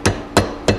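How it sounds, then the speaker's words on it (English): A soft hammer strikes a thin, soft copper sheet being shaped over a former for a model stationary engine's firebox, three evenly spaced dull taps, close and alone. "The copper's soft, so I'm using a soft hammer."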